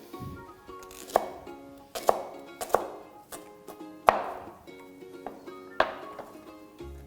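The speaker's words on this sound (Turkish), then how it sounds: "Hatta bir küçük soğan daha doğrayabiliriz." A kitchen knife chops small onions on a board in sharp, irregular strokes, roughly one every second, close and fairly quiet, with a faint background hum and no talk.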